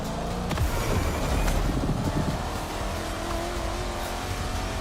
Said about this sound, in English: the sound of the engine is just so good